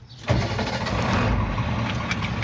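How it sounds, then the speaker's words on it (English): A tractor-trailer truck's diesel engine cranks and catches after a brief quiet moment, then settles into a loud, steady, close rumble with no talk. "Clutch down, checking neutral, and starting up the engine."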